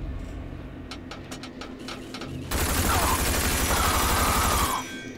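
Gunfire in the video game RAGE: scattered shots at first, then a loud, continuous burst of automatic fire with mechanical whine lasting about two seconds before cutting off.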